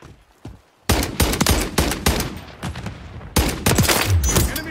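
Rapid bursts of automatic gunfire in the Modern Warfare III PlayStation beta, loud and close, firing in repeated volleys with a brief pause before another stretch of shots.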